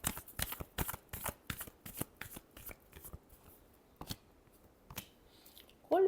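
Tarot cards are shuffled close up in quick, rhythmic riffling strokes, soft and steady, with a brief tone at the very end.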